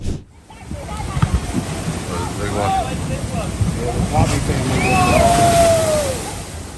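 Ocean surf crashing near people posing for a photo, heard as a wind-buffeted roar of surging water that swells toward the end, with voices and shouts mixed in.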